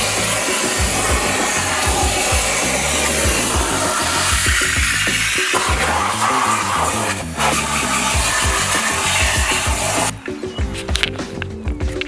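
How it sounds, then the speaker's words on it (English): An Adam's Barrel Vacuum, a 5-gallon shop-style unit, roars steadily while cleaning the interior of a MINI, its tone shifting as the nozzle moves against seats and carpet, with a sharp change near the end. "I got Adam's Barrel Vacuum, the 5-gallon vacuum."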